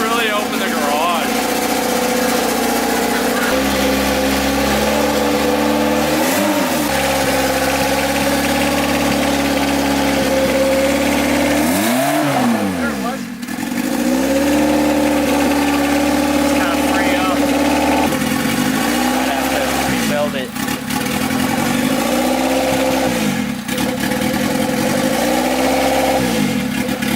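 A car engine fitted with a cracked eBay turbo idles steadily and loudly, then is revved in repeated swelling blips that rise and fall, the last several coming in an even rhythm.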